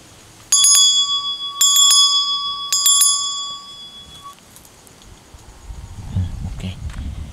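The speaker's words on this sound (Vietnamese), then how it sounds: "tiếp theo sẽ dùng chuông" A small ritual hand bell used in a spirit-summoning ceremony with incense rings in three quick shaken bursts, bright and close, the last ring fading into outdoor rustling and faint low noise.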